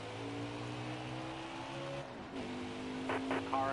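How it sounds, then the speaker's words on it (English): A car passes outside during a motorsport heat, its engine hum steady and close, then shifting in pitch midway as it goes by, with a brief rise near the end; no talk over it. "Car outside."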